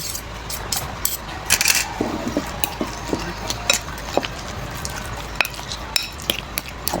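Food in a cooking pot is stirred with a utensil, giving repeated scraping and clinking strokes against the metal over a soft sizzle, close and moderately quiet.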